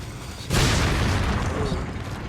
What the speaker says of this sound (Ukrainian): Він сам себе підірвав, виходить такий камікадзе справжній